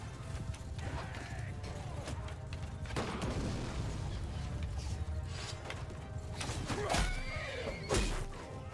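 A horse in the Mount & Blade II Bannerlord battle game neighs and whinnies amid clashing, creaking combat noise, with sharp loud bursts around the middle and near the end.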